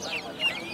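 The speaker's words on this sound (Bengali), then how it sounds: "এগুলো পাকিস্তানি মুরগি" Pakistani chickens about sixty days old at the Hemayetpur animal market give a short, soft clucking call that rises briefly, with faint market murmur behind.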